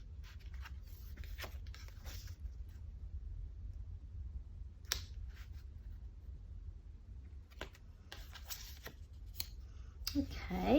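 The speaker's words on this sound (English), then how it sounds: "So I'll cut some of that. Yeah, I'll cut down there." Scissors cut paper for a junk journal in several short, crisp snips separated by quiet pauses, close and faint, with a person speaking softly at times.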